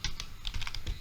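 A short, quick run of keystrokes on a computer keyboard as a Windows command is typed, with crisp close clicks in a brisk, slightly uneven patter.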